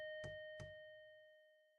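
Doorbell ringing in the video game Scarlet Hollow, two sharp struck chimes in quick succession over a sustained ringing tone that slowly fades.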